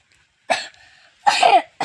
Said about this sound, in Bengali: আরে কাশি হয়েছে গো